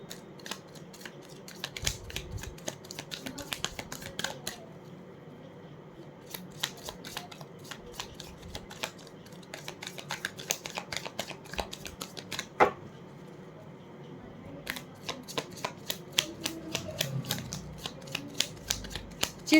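Tarot cards are shuffled close up in quiet bursts of rapid flicking and riffling, with short pauses between rounds and no talk.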